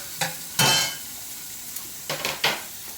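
Chorizo with onions and peppers sizzling in a pot, broken by a few sharp scraping stirs of a utensil against the pan in quick pairs, close and clear over a steady frying hiss.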